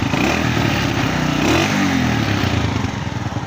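A 2017 Honda CG125 single-cylinder motorcycle engine runs close by while the throttle is blipped, the revs rising and falling once over a steady loud drone.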